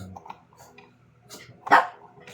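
Shih Tzu dogs bark and yip indoors in a few short, scattered bursts, rising to one sharper, louder bark near the end.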